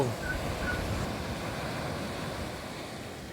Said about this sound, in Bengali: ও কি ঢেউ ওয়াও